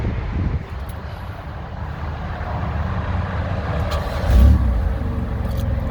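A Buick LeSabre's engine turning over and settling into a steady low idle, with a brief louder surge near the end, continuous rumble throughout and no talking.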